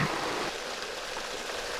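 Steady broadband rush of flowing water, continuous and fairly close, with no voices.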